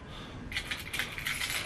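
A set of keys handled close by to pry open a bottle, a short flurry of bright metallic jingles and clinks in quick succession.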